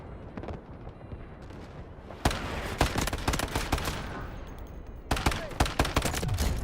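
Rapid gunfire rattles in the video game Delta Force Hawk Ops, with dense automatic bursts and sharp shots, loud and close, that come in two heavy stretches.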